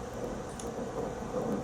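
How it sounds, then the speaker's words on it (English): Low, steady thunder rumbles with rain-like hiss throughout, a continuous dense roar without a distinct crack. "Did y'all hear that thunder?"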